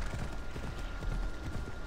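A horse in Assassin's Creed Odyssey trots with steady clip-clopping hoofbeats over a low, rumbling game soundscape, close and continuous with no talking.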